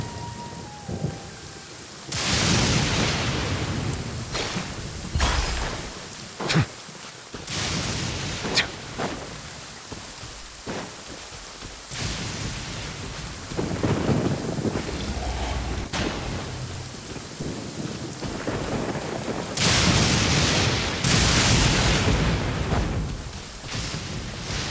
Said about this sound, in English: This heavy rain must be quite an inconvenience for you.